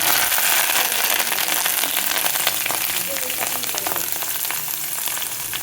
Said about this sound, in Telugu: నెయ్యితో తాలింపు పెట్టుకుంటున్నాను